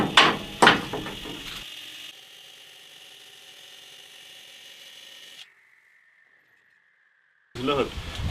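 A building-block saw made for squared blocks cuts through a heavy fieldstone. A steady mechanical drone runs for several seconds, then a thin whine slowly winds down and fades to near silence before louder noise returns.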